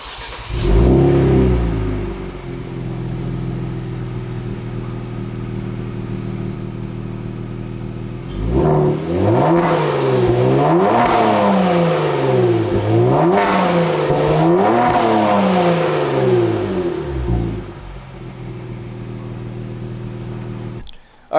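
Kia Stinger with an MBRP Pro catback exhaust, close by: a sharp rev at the start, a stretch of idle drone, then a series of repeated throttle blips rising and falling before settling back to idle.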